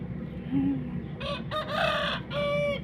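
A fighting cock crows close and loud in a few strained, drawn-out bursts after a faint call, with a low background murmur around it.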